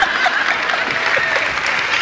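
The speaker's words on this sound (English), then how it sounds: "We do need to give a round of applause to Peter." An audience applauding at an education awards celebration, a steady dense patter of clapping hands throughout with a few light chuckles mixed in.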